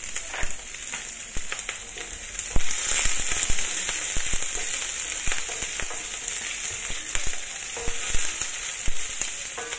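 Chopped onion and chili fry in oil in a pan for a pork belly dish, giving a steady, loud, close sizzle scattered with sharp crackling pops throughout, with no talking.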